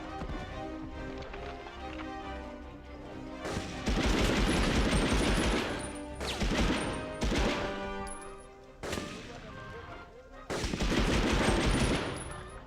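Gunfire in the video game Medal of Honor: Underground rattles in loud repeated bursts separated by brief lulls, with rapid shots and clattering sounds close up and no speech.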